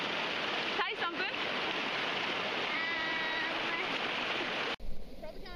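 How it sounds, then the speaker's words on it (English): Rapids on a river rush in a steady, loud broadband roar that fills the whole stretch, with a few brief voices and a whistle-like call rising over the water before a sudden jolt near the end. "You probably can't hear me because we're in the rapids now."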